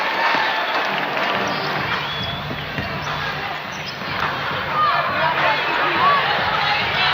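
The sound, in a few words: basketball crowd cheering in Michelob Ultra Arena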